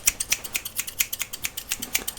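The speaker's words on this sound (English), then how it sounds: "I guess we can move on to the next scissors, my slightly more precise," Barber's fine precision scissors snip hair close to the microphone in a quick, steady series of about twenty crisp metallic cuts, with no talking.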